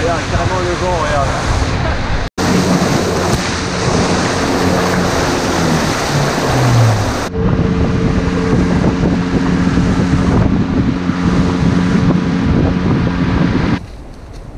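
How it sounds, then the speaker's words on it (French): Strong wind buffets the microphone in a loud, continuous roar, with voices speaking underneath and the rush of surf nearby. "Regarde, carrément le vent, regarde."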